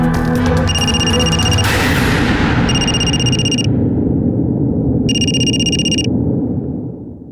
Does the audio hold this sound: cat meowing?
no